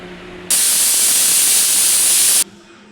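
A pressure cooker cooking dal and rice lets out a loud, sharp steam hiss from its whistle, starting abruptly, holding steady for about two seconds, then stopping, over a low kitchen hum.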